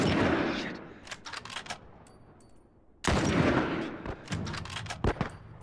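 Gunshots in the video game The Last of Us Remastered: bursts of loud sharp reports, a lull, then another heavy volley of repeated shots with echoing tails, no talking.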